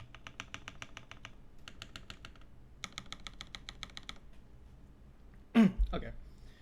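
Rapid bursts of computer keyboard typing during a quick typing test, steady clattering keystrokes in several runs with short pauses, followed near the end by a brief voice.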